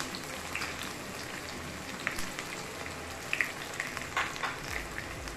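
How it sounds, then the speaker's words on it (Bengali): Chopped onion frying in hot oil for chicken khichuri gives a soft, steady crackle with scattered pops, quiet and close, with no talking. "পেঁয়াজটাকেও একটু ফ্রাই করে নিচ্ছি"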